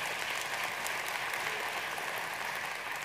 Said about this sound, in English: you can applaud that for sure